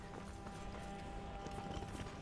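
Horse galloping in the Skyrim Anniversary Edition game, a steady run of close hoofbeats layered over game ambience and music for a couple of seconds, with no talk over it.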